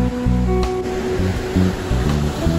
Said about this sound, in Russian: И море такое же бушующее, бьющееся об камни.